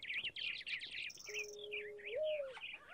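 A bird in the Minecraft Technic modpack chirps and tweets in rapid high-pitched bursts, followed by a few quieter whistled calls, close and clear, with a faint low tone under it and no talking.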